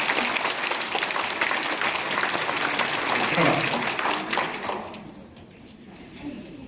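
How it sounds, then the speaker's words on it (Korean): A church congregation claps in dense, sustained applause to encourage its leaders, then the clapping thins and fades out after a few seconds into a quieter room. "박수로 격려 한번 해주세요"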